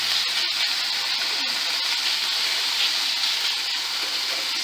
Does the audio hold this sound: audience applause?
no